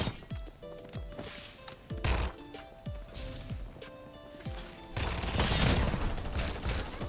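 Rapid bursts of gunfire in the Farlight 84 video game, repeated sharp shots in quick volleys that build into a denser, louder barrage near the end.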